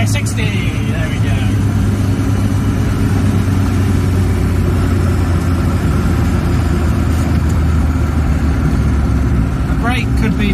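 A Reliant Robin driven flat out, its small engine droning loud and steady inside the cabin with low rumbling road noise, and a voice talking over it.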